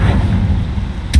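A Confringo fire curse blasts out in Hogwarts Legacy, a short sharp burst near the end of a low rumbling game soundscape, close and loud.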